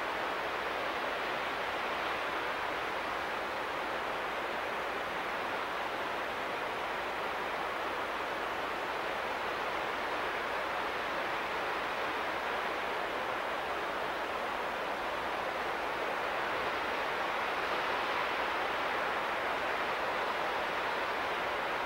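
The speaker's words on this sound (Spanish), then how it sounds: "Detalle de la cascada." A mountain waterfall on a hillside hiking route roars as a steady, dense broadband rush, constant and unbroken at moderate level, with no voices.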